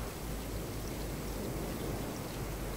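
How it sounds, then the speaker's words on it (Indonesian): Steady rain falls in the survival game Raft, a dense, even hiss with a low rumble underneath that holds constant throughout, with no voices. "Wah, hujan ya?"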